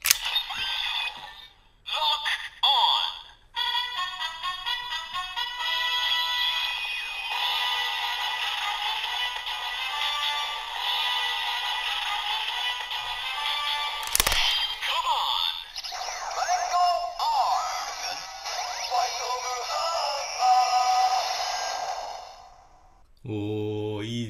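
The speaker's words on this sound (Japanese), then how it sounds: "では戦国ドライバーを使って音声を確認していきたいと思います。" Kamen Rider Gaim DX Sengoku Driver toy belt with a Baron faceplate and Mango Lock Seed plays loud electronic announcements, a standby tune with chimes and a repeating melody, then a synthesized voice call and a harsh clang near the end.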